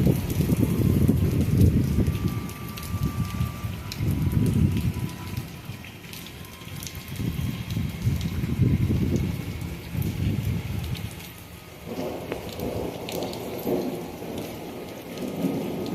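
During a lightning storm, heavy rain pounds nearby surfaces while deep rolls of thunder swell and fade several times beneath the downpour.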